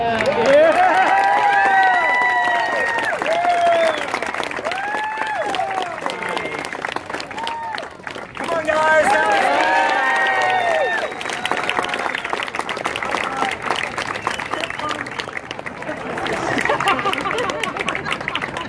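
At a knife juggling street show on Pearl Street Mall in Boulder, an outdoor crowd claps and cheers in sustained waves, with whoops and voices rising through the applause.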